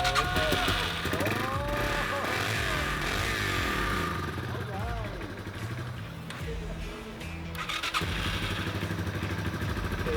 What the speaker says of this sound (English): So, I have to have them on choke, otherwise it doesn't really idle.